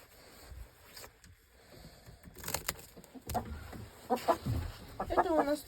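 Hens, including an old hen and naked-neck broilers, clucking and squawking in short irregular bursts, nearby, over a low background hum of a village farmyard.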